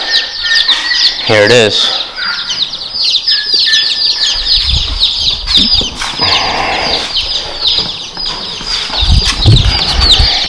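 Day-old baby chicks, including barred rocks, chirp busily in a warm box, with high repeated peeps over rustling and a brief spoken comment.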